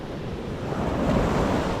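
Ocean surf breaking on a Perth beach, a loud, dense wash of waves with wind noise buffeting the microphone, steady throughout the brief moment.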